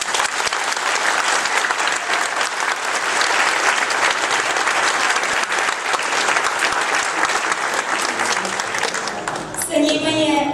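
An audience gives a long, loud round of applause for a children's choir at an Easter concert. The clapping is steady and sustained, and a voice comes in briefly as it fades at the end.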